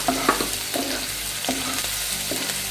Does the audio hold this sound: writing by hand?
no